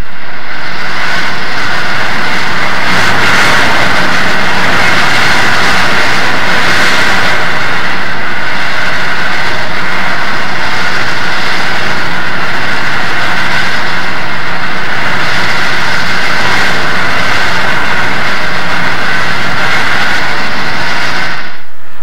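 Southern Pacific cab forward steam locomotive 4274 pulling close to 900 tons eastward near Roseville, a steady, loud rumbling roar of the working engine and train that holds for over twenty seconds with no talk.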